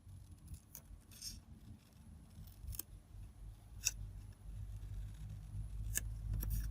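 Scissors trimming paper for a journal, giving a few faint, quiet snips spread over a soft, low background hum, with no talking.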